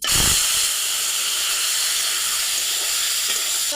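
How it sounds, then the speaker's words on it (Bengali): Fish, snakehead, hits hot oil in a wok over a clay stove, bursting into a loud hissing sizzle at the start that settles into a steady, close frying hiss without talk. "তেলটা গরম হয়ে গেছে আমি মাছ দিচ্ছি"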